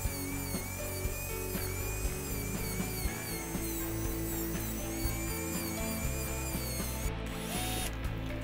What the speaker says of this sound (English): carving them with a small drill